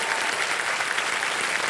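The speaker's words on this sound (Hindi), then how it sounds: "तालियों के साथ इनका स्वागत किया जाए।" A studio audience at a televised quiz show claps in steady, dense applause that fills the room evenly throughout. The clapping is close and sustained, with no clear speech over it.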